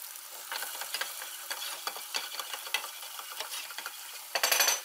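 Rosemary sautéing with beef picadinho in a pan, a soft steady sizzle broken by repeated scraping stirs and clicks, ending in a louder burst of stirring.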